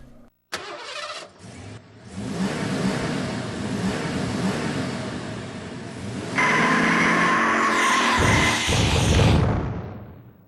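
Arcade racing cars in Midway Arcade Treasures 3 start up and rev loudly, holding a continuous engine roar that climbs into a higher, harsher pitch near the end before cutting off.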